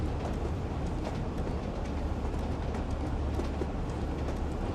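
A Northern Trans-Pennine train in Train Sim World rumbles steadily along the line, giving a constant low, noisy roll with faint clicks and no speech.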